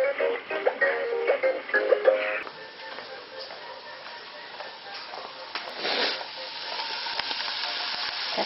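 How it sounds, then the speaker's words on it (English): Mushrooms sizzling in a pan for pizza, a steady close frying hiss with a few clinks of a spoon stirring early on, moderately quiet throughout. "Got some mushrooms frying up for the pizza."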